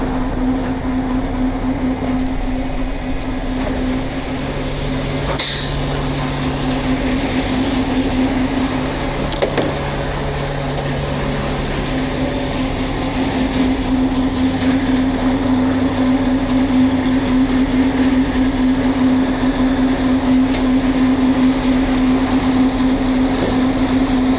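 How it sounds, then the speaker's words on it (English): Two heavy winches run at once, pulling a giant mining truck during a recovery, giving a loud continuous mechanical drone with a steady hum and rumble for the whole stretch, with no talking. "We're just running both winches at once now."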